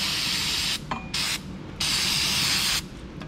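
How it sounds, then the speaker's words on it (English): Bursts of aerosol brake cleaner spraying close to the mic on a go-kart axle, several sprays in a row separated by short pauses, the last one long and steady. "Give that a quick spray."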